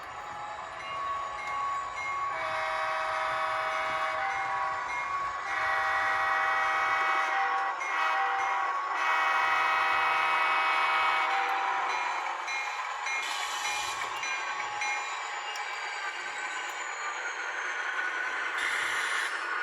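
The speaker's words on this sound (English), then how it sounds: "You can definitely hear the echo effect from that horn." Model train layout with locomotive 3013 sounding its horn, a long sustained tone carrying an echo effect over a continuous rumbling running noise, no voices.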